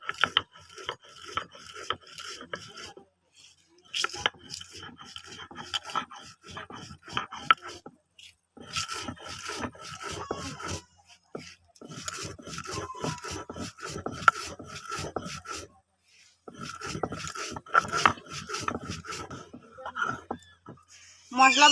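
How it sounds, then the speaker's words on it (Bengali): Roasted spices ground by hand on a stone grinding slab in a village kitchen, making rhythmic gritty scraping and rubbing strokes that come in bursts separated by short pauses, close up, with no talk. "এবার ভাজা মশলাটা ভালো করে গুঁড়ো করে নেবো।"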